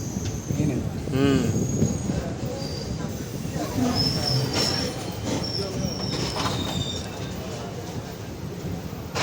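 A passenger train in Kerala heading toward Thiruvananthapuram rumbles steadily along the track, with high metallic wheel squeals rising over the rolling noise and faint voices in the carriage.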